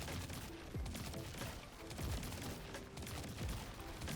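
A Mint Retrograde pulse rifle fires in a video game during a solo boss fight, loud rapid bursts of shots that run almost continuously and sit over dense game effects and rumble.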